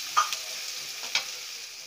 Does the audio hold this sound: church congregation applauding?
no